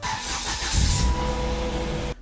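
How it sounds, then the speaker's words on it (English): A car engine turns over and settles into a low, steady running rumble, close by, before cutting off abruptly at the end. "I am gonna try it with the car running"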